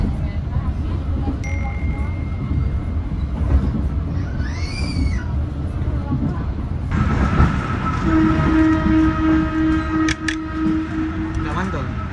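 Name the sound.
train arriving at Payakabung station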